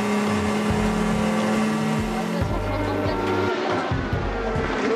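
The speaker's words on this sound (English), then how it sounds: "The Audi number 1 team, Lotterer, already going extremely quick during the free practice" Audi Le Mans prototype race car at the 2012 Le Mans 24 Hours, screaming past at speed during practice or qualifying, its loud engine note shifting pitch continuously with no pause.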